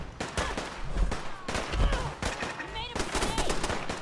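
Rapid automatic turret gunfire from Fallout 4 rattles in dense bursts across the whole stretch, loud and close, with a voice talking over parts of it.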